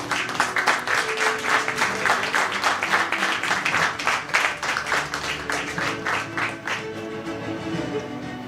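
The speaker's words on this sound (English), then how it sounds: "This deserves a big round of applause." A room of guests at a book launch breaks into applause, a dense, rhythmic wash of clapping that holds steady for several seconds before thinning out near the end, with faint voices underneath.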